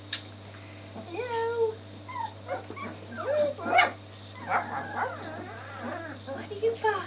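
A dog yips and barks in short bursts indoors, mixed with whimpering and a cat-like mewl, while people talk over and around it at close range.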